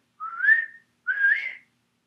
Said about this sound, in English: I'll have to whistle it.